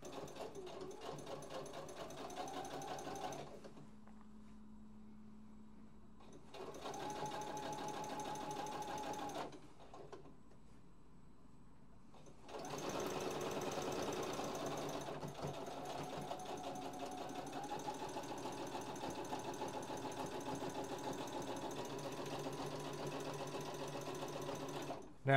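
A sewing machine stitches linen yukata fabric in long continuous runs of steady whirring, with short pauses between runs, close and moderately quiet.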